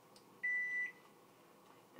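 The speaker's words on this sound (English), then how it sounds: "Microwave oven," A microwave oven gives one clear electronic beep, a short steady tone in an otherwise quiet kitchen.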